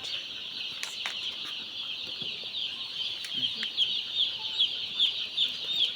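A dense, steady chorus of broiler chicks peeping high and shrill, continuous and fairly close, in a poultry shed of about 3000 birds.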